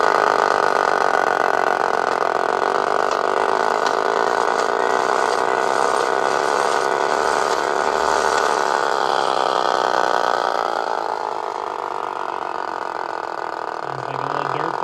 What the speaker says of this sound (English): The other neat noise it has is the motor.